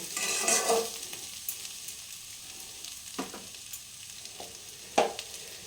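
Sabudana frying in a pan for Bengali-style khichuri, a steady close sizzle with a few scraping stirs of a spoon and one sharper knock, no voices.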